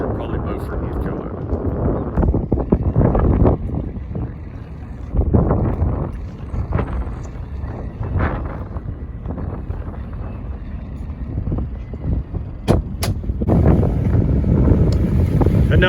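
Wind rushing over a sailboat under mainsail as it heads out St. Mary's Inlet straight into the wind, a loud, steady roar with gusty surges and occasional knocks close by.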